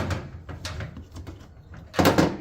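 The door of a Samsung washing machine is worked open close by, with a few soft clicks and rustles followed by a louder clunk near the end.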